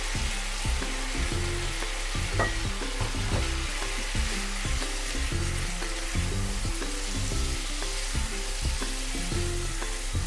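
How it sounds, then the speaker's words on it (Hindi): Cream fries with spices in a hot pan on medium heat, a loud, dense sizzle running steadily throughout with rhythmic stirring scrapes, close up and with no one talking. "आधा मिनट इस क्रीम को मसालों के साथ पकाएंगे, भूनेंगे"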